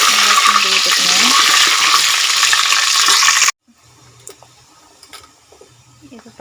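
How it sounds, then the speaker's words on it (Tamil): Fenugreek, cumin and vadagam sizzling loudly in hot oil for a fish kuzhambu, with spoon scrapes stirring the pan, before the frying abruptly cuts to quieter kitchen clatter and faint metallic taps. "ஜீரகம் வடகம் ரெண்டுத்தையுமே சேர்த்து நல்லா கிண்டி விட்டுக்கணும்."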